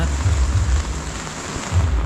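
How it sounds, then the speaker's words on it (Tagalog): Steady rain pours down during a typhoon, a dense broadband hiss with low rumbling gusts, close and fairly loud throughout with no talking. "ulan po ngayon magdamag"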